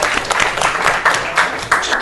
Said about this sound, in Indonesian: Tepuk tangan untuk Marsha.